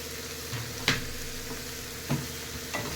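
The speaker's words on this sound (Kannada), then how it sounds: "ಇದನ್ನು ಸ್ವಲ್ಪ ಹೊತ್ತು ಆಯಿಲಲ್ಲಿ ಫ್ರೈ ಮಾಡಿ" Soya chunks with crushed ginger and garlic fry in oil, a low steady sizzle marked by a few distinct stirring clacks and scrapes spaced across the moment.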